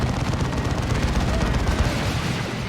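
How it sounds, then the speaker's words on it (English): Dense, continuous rumbling barrage from a Space Marine assault cannon in Dawn of War 2 battling Imperial Guard troops, a steady roar of rapid impacts and blasts with no pauses. "There's a barrage from the assault cannon."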